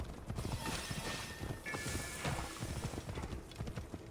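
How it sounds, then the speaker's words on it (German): Rapid, steady clip-clop of galloping hooves throughout, with a brief whinny, in a busy mix from the video game Assassin's Creed Origins. "Wenn die Pferde wenigstens richtig rennen würden"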